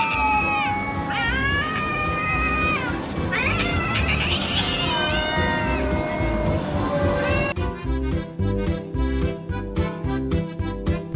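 Cats fight close by, with loud, wavering yowls and caterwauls over a scuffling, noisy background, and the sound becomes choppier and more broken toward the end.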